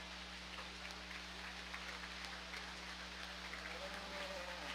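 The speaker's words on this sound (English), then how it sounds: "let's start off by giving these exhibitors a round of applause" Applause from the audience for the exhibitors at a 4-H and FFA breeding beef show at the 2025 Washington County Fair. A steady, fairly faint wash of clapping holds evenly throughout over a low hum.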